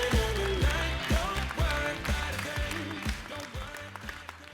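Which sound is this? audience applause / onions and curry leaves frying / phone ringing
audience applause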